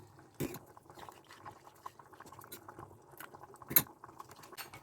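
Rice flour being stirred into water: faint, quiet liquid sloshing with small scattered clicks and a couple of sharper taps, close by and with no voices.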